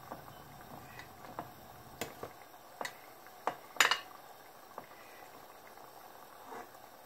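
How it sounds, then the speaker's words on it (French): A lamb curry simmers gently in a pot, soft low bubbling beneath scattered clinks and knocks of utensils against cookware, one sharper clatter near the middle, quiet and close with no speech. "nous allons laisser ce plat mijoter pendant à peu près minimum 1 heure"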